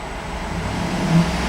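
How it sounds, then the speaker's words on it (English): A black 2011 Cadillac Escalade ESV with a 6.2 liter V8 sits idling, giving a steady low rumble at an even level throughout, with a faint high whine above it. "so you can see the car is running and idling perfectly"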